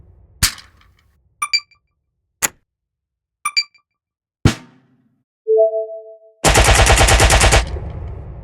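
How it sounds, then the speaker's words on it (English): A designed AK-47 gunshot effect built from household recordings: a series of separate sharp clicks and knocks, a brief tone, then a loud burst of rapid-fire shots, all close and clean with no talking. "You will learn how to create this gunshot sound effect"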